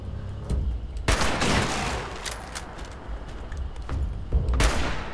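Rifle gunfire while hunting robots in Fallout 76, a few sharp, loud shots with a rumbling, echoing tail between them, irregularly spaced and standing alone without talk.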